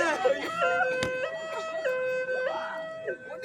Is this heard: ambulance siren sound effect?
yes